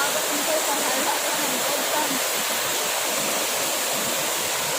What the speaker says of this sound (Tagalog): Sa busay.